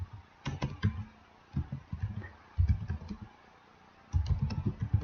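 Typing on a computer keyboard, clusters of quick close clicks in short bursts separated by brief pauses.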